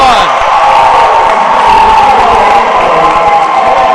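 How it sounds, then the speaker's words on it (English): A packed gym crowd at a college volleyball championship match roars and cheers loudly and continuously, shouts and whoops layered in the din. "Boy, the crowd is going nuts"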